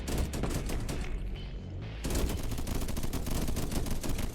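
A defensive line of turrets in a video game lets loose dense, rapid gunfire, a continuous barrage that thins briefly mid-way and then resumes at full force until the end.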